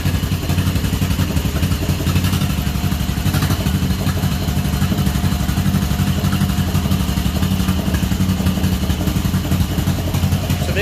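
Old John Deere M tractor running with its hydraulics being pushed down, a steady close mechanical chug and clatter that holds even throughout with no talk over it.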